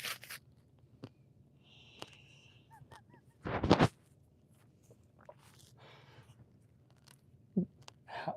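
Someone chews a salty chip during a salt chip challenge, with a few short crunchy bursts of chewing separated by quiet gaps and faint background noise.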